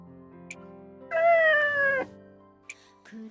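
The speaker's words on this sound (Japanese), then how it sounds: "こいつはいつもの黒猫だな。" A black cat in the video game Nights of Azure lets out a single clear, drawn-out meow of about a second, loud and close against a quiet musical background.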